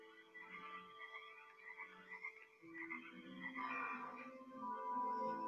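Frogs croak in a dense, overlapping chorus of many voices, a steady layered trill and rhythmic calls that swell louder toward the end, with no talking.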